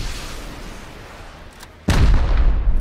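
Rocket explosion in the video game Rust: after a low rumbling lead-in, one sudden loud close blast hits and keeps booming and crackling to the end.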